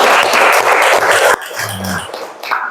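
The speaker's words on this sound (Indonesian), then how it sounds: "100 tepuk tangan." Classroom applause from a group of students, a broadband burst of clapping that fills the first half and then stops abruptly, leaving quieter room noise with faint voices afterward.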